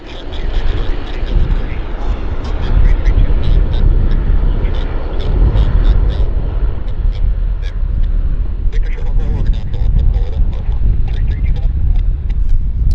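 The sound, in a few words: Airbus airliner climbing after takeoff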